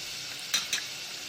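Asafoetida, green chillies and curry leaves hit hot oil for a tempering, giving a steady hiss with two quick bright bursts of sizzle close by.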